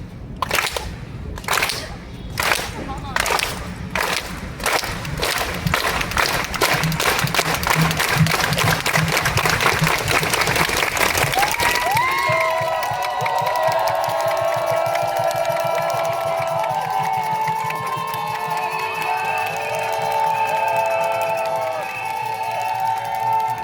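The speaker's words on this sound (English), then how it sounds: "We're gonna do a unity clap." Rally crowd at an immigration protest in Foley Square claps in unison, starting with slow, evenly spaced loud claps that speed up into a rapid roll, then dissolves into cheering, whistles and shouting.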